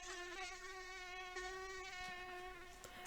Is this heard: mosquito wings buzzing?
yes